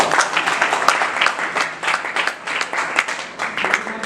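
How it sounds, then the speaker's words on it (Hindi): An audience at a Teacher's Day celebration in a music and art university hall claps together, a thick, continuous patter of many hands with slight swells, close and fairly loud and without talk. "ताली बजाइए"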